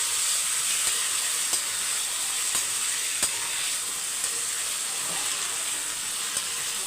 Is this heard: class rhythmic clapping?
no